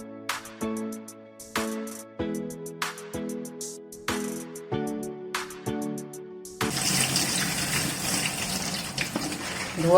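Tap water runs for the last few seconds, a steady close splashing gush as young Malabar spinach leaves are rinsed, after a run of ringing plucked musical notes.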